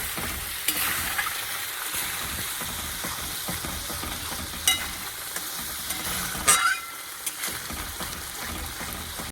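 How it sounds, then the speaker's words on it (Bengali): Spice mix with salt frying in a pan for pea kofta curry, a steady loud sizzle with occasional stirring scrapes and clinks, close up with no talking. "মশলাটাকে ভালো করে একটু ভেজে নেব"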